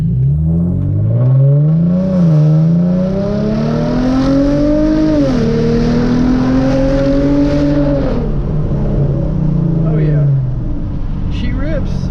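A Hyundai Genesis Coupe with subframe shims fitted revs up and accelerates through several gear pulls and corners, its engine note loud and close throughout, rising, dropping and climbing again.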